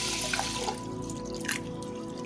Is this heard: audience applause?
no